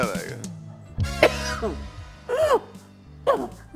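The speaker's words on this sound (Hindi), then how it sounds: "लीडर को खांसी आ गई" A few sharp coughs and throat-clearing bursts from a man on a stage show, close and fairly loud, separated by short pauses, with a low hum underneath.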